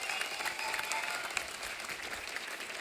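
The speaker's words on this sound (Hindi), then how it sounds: "जोरदार तालियां सबके लिए।" Steady applause from a studio audience at a televised Hindi comedy talk show, a dense wash of clapping that holds at moderate volume without a break for the whole stretch.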